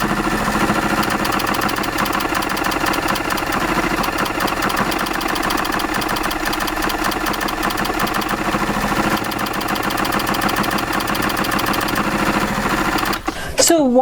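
A sewing machine quilting fabric runs in a steady, fast mechanical rhythm at close range for the whole stretch, stopping abruptly at the end.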